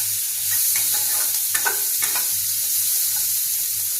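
Ginger and garlic frying lightly in a pan for Bengali-style chicken butter masala, a steady low sizzle with scattered scraping stir clicks near the middle, close and moderately loud.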